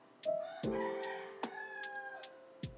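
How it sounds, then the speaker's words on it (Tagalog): Quiet, distant chicken clucks and a rooster's crow mingle with sharp repeated clicks or taps at regular intervals. "ang ingay ng mga manok"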